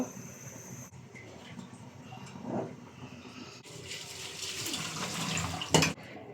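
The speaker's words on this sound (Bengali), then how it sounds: "ভাতটা কিন্তু রান্না হয়ে গেছে এখন আমি ঢেলে নিব একটু শক্ত শক্ত থাকা অবস্থায় আমি নিতে হবে চালনির মধ্যে" Cooked, still slightly firm rice for a Bangladeshi beef biryani is poured into a colander, and water splashes and drains in a steady trickling rush that swells near the end, with a brief clatter.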